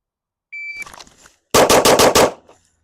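Pistol shots in a timed competition shooting string, starting with a short electronic timer beep, then five rapid, loud, evenly spaced shots close up in quick succession.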